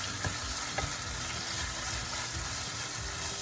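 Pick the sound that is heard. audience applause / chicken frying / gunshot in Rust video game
chicken frying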